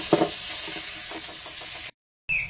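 Onions fry in hot oil in a pan, a steady close sizzle with a few stirring scrapes, then a short silence before the sizzle starts again.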